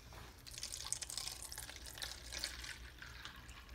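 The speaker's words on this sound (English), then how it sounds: "Just pour your mix in," Jell-O mix poured into a round plastic Tupperware container, a soft continuous trickling and dripping of liquid that runs steadily throughout at close range, with no talking.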